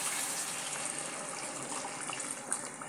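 Hot water pours into a cooking pot over fried onions, a steady close hissing gush of liquid that runs unbroken for about three seconds, with no voices.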